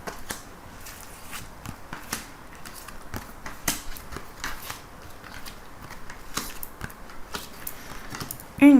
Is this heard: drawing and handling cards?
yes